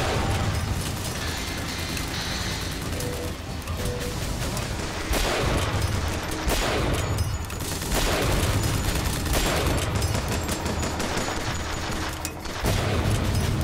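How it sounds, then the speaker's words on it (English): Sustained gunfire in the video game Bioshock Infinite fills a loud firefight against Vox Patriots, with dense, overlapping shots and bursts running continuously over rumbling game sound and no talk. "Let's shoot these guys."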